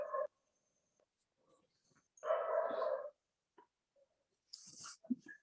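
Dogs bark in a few short bursts separated by quiet gaps, one longer louder bark near the middle and fainter yips later, heard during a church gathering in Bangalore.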